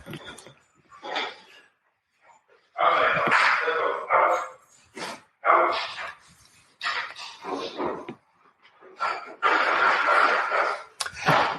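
Household dogs barking in bursts indoors, several loud close barks and yips with short gaps between them, while people talk nearby.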